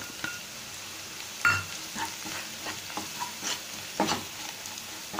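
Chicken sautéed with Maggi masala in a pan, giving a soft steady sizzle with scattered scraping and stirring clatters of a utensil against the metal, fairly close.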